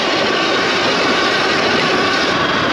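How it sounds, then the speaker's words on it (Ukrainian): A Sur-Ron Ultra Bee electric motorbike with a 12 kW motor and chain drive, hissing and whining steadily while ridden, with a broad airy rush of wind and road noise close up and no talking. "Дивіться, як вона йде, аж шипить."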